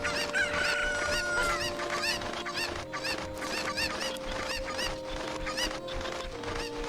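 Chickens cluck and squawk in Kakariko village in the video game Zelda: Ocarina of Time, with many overlapping calls over a steady background tone and a bright chime in the opening second.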